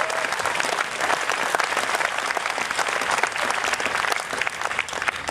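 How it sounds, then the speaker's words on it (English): A gathered crowd at a hearing or rally applauds a speaker, producing dense, even, continuous clapping that holds at a steady loudness without any talk. "You can applaud for that."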